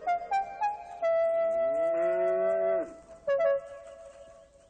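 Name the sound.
cow and calf mooing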